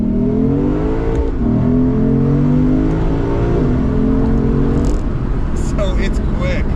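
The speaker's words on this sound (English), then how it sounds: "Got a V8 in front of the car powering this whole beast. And let's see what it sounds like." 2022 Lexus IS500 with a front-mounted V8 accelerating hard in Sport Plus mode, a loud rising engine note climbing through gears with shifts, heard from inside the car under light speech.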